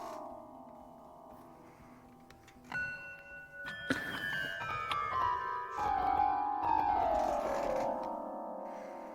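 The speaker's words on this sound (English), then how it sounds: "No, it's not horror movie effects, it's just bells." Bell tones are triggered by collision detection in a software patch and come out jumbled and eerie, like horror effects: overlapping metallic strikes and clangs pile up over nine seconds, with dissonant ringing tails and sudden loud hits, and no talking.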